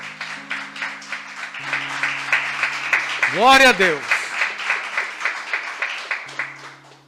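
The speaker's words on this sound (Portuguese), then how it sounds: "Vamos aplaudir ao Senhor por todos os pais." A church congregation claps in a steady, rhythmic beat through a Father's Day service, with a voice calling out praise over the clapping partway through.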